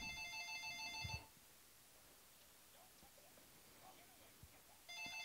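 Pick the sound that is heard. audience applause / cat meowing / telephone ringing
telephone ringing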